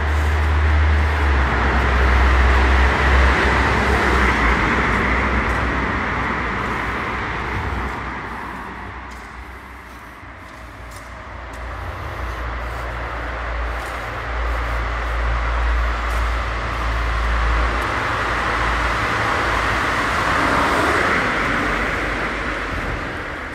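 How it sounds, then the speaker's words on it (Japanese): Steady stream of cars passing on a busy road near the Yokoyama Tunnel in Shizuoka, a continuous loud roadway rumble and whoosh that swells and dips slightly as vehicles go by, with no talk. "本当交通量多いっすね。 ガンガン車来る。"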